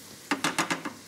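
Chopped onion frying in a pan is stirred: five quick, evenly spaced scraping strokes with a light sizzle, close and clear, with no talking.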